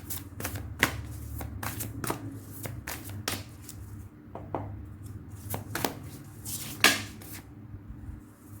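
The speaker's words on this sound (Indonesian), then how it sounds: "sekarang kita tarik oracle advice ya" A deck of oracle cards being shuffled by hand, with repeated crisp riffles and flutters in close, uneven bursts and a sharper snap near the end, with no talking.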